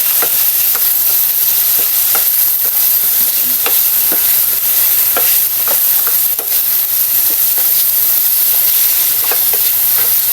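Soup vegetables and carrots in a pot give a loud, steady bubbling sizzle and hiss, broken by light clicks of the stirring spoon, close and without voices.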